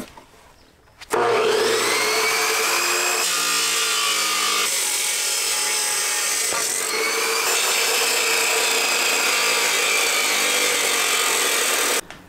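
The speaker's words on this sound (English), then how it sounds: "I'm just gonna use the abrasive disc to cut it down." An abrasive disc saw cuts through 3x1 steel tube with 120 wall thickness, starting abruptly into a loud, steady grinding whine that holds for about eleven seconds before cutting off.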